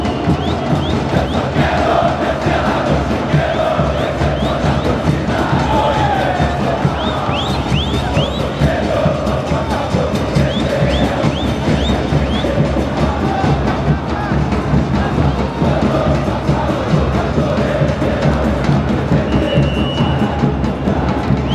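Grêmio football supporters chant together in a dense, loud, unbroken crowd roar inside Arena do Grêmio, a sustained stadium wall of voices with occasional whoops.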